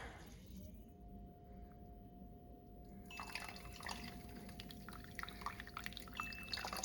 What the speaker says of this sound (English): Pump is ventilating.